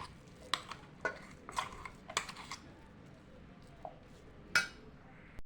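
Ground white chickpea batter is moved into a vessel, giving a handful of irregular, fairly quiet metallic clinks and scrapes spaced across a calm kitchen background.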